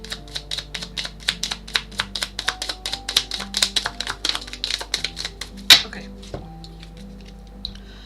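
Tarot cards shuffle by hand in a quick run of crisp, rhythmic snaps and riffles, close and fairly quiet, then settle into a few scattered taps after a final louder slap.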